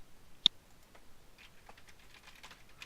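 Soft keyboard typing, a sharp click followed by a quick patter of light keystrokes, quiet and close.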